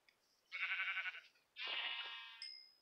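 A sheep in an old version of Minecraft gives two drawn-out bleats in a row, clear and close, followed by a brief high game tone.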